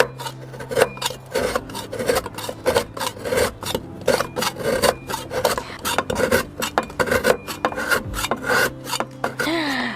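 A block of palm sugar is scraped and ground in quick repeated rasping strokes, a close, steady rhythmic scratching that is loud and continuous with no talking.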